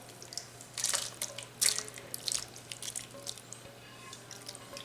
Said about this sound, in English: Now, I'm going to add our mixture that we cooked on the stovetop.